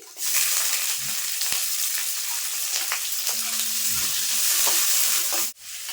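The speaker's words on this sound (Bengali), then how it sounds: "তো ওই তেলের ভিতরে আমি দিয়ে দেবো কিছু গোটা সর্ষে তো এবার দিয়ে দেবো পেঁয়াজ কুচি" Chopped onion and whole mustard seeds frying in hot oil while preparing chire pulao, a loud continuous sizzle with occasional spatula scrapes and taps, close by, cutting off abruptly near the end.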